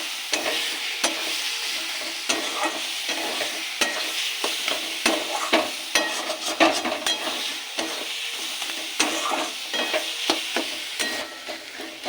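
Red amaranth greens being stir-fried with poppy seeds in a pan, with a steady sizzle and repeated scraping and stirring clicks from a spatula, close and continuous without talk.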